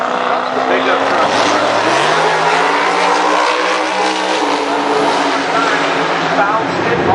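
Pickup truck launching down a drag strip, its engine roaring loud and steady with sweeping pitch through the gears, a voice talking over it throughout.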